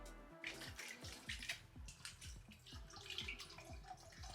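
Water dripping and splashing from a bucket of water used for car interior painting work, a steady run of close drops with irregular rhythm, no voices.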